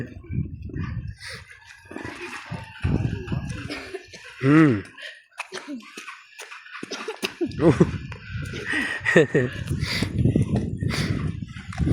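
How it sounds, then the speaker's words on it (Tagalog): A young child coughs in several short, raspy bursts close by, mixed with other vocal sounds and household noise in a room. "inuubo-ubo ka tuloy"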